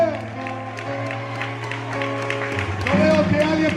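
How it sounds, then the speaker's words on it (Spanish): Applause from a church congregation during an evangelical service, rising toward the end, with a voice and musical tones running beneath it. "Yo veo que alguien por allá aplaude a Dios"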